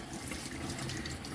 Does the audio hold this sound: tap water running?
yes